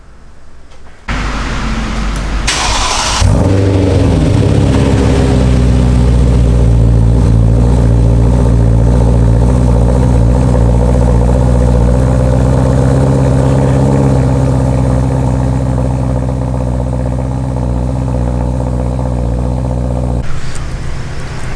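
A BMW E9X M3 engine with a new Eisenmann Race exhaust starts up on a lift and settles into a steady, loud idle with a deep exhaust rumble, running continuously.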